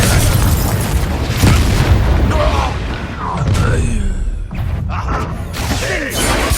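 Confringo fire-blast spells explode during a Hogwarts Legacy duel, with repeated booming bursts and thuds over a dense, loud battle bed of crackling effects, running continuously throughout.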